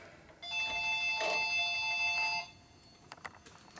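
A telephone rings with a bright electronic trill for about two seconds, loud and close, then stops, leaving faint clicks and handling noise.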